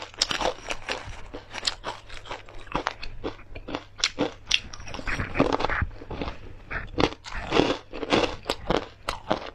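Crunchy peanut chili crisp being bitten and chewed close up, a fast run of sharp crackling crunches that keeps going steadily with no talking.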